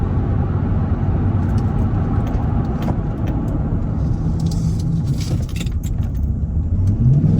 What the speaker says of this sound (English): we're gonna get her up to between 55 and 60 and jump on the brakes, get her down to 15 miles an hour